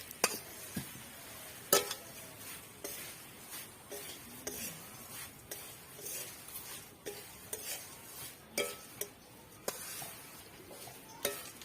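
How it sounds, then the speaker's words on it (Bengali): A spoon stirs spiced flattened rice (chira) in a pan, giving a series of soft scrapes and sharp metallic clicks against the pan at an irregular rhythm, close and fairly quiet. "এটা এবার ভালো করে নেড়ে চিড়াগুলোকে আস্তে আস্তে এর সঙ্গে মিশিয়ে দিতে হবে।"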